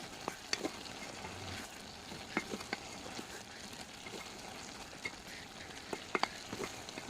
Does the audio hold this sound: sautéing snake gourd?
yes